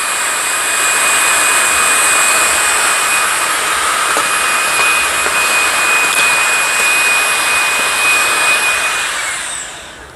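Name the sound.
vacuum cleaner running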